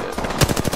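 Rapid bursts of automatic gunfire from the battle royale video game Apex Legends, a fast rhythmic stutter of shots with one louder hit partway through, close and loud with no talk over it.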